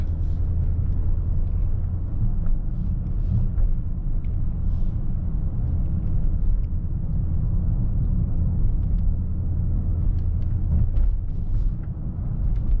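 Inside a 2025 Mercedes-AMG S63 E Performance driven in Sport Plus mode on a freezing day, a continuous low engine and road rumble holds steady throughout, moderately loud with no talking.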